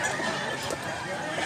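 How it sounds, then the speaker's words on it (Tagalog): Continuous close clucking and low squawks from a Sweater-bloodline fighting rooster in Cebu province, moderately loud against a steady noisy background. "Manok pang sabong."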